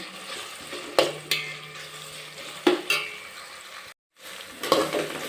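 Masala frying and being stirred in a pan for coconut rice: a soft steady sizzle broken by a few sharp clinks and scrapes of a spoon against the pan, close by, with one brief silent gap.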